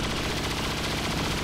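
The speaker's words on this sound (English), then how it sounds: "let's try for a bunch of shots on the Muton here" Rapid automatic gunfire in XCOM 2, a continuous loud burst of shots aimed at a Muton, heard up close and alone without talk.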